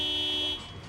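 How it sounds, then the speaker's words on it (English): A car horn sounds in Project Zomboid while driving, one steady electronic-sounding honk held for about half a second before cutting off, with no talk over it. "Honk my horn and beep."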